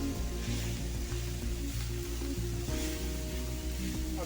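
Dill leaves frying in a pan give a steady, soft sizzle that holds evenly throughout, close and fairly quiet, with no voices over it.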